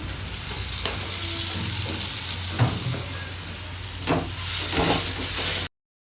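Salted cut potatoes frying in a pan, a loud, steady close sizzle with occasional stirring knocks and scrapes, swelling louder toward the end before stopping abruptly.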